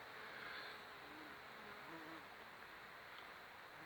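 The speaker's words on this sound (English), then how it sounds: "We've got a few hoverflies in here and a wasp as well." Hoverflies and a wasp buzz faintly and steadily around a garden, a soft continuous drone with no voices.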